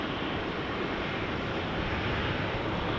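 A KLM Boeing 777-200 bound for Bangalore moves through rainy, wet conditions at Amsterdam Schiphol, heard as a faint, even, broadband engine rumble with no distinct events over a few seconds.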